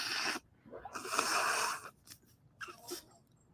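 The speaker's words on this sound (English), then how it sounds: "I'm blowing my nose so I can breathe." Someone with a stuffy nose blows it into a beach towel: two or three wet, honking bursts of air, the first long and strong and the later ones shorter, heard close up with no talking over them.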